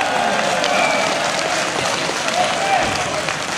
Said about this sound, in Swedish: Hans Sörte Nordin och Erik Häusler, den stora applåd